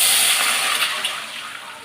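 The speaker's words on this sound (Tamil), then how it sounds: "இப்போ நான் என்ன பண்ணுறேன், இங்கே தண்ணி ஊற்றிக்கிறேன்." Water poured into a cooking pan after frying, a steady broadband pour with hiss and gush lasting the whole moment, close and fairly loud, fading slightly toward the end.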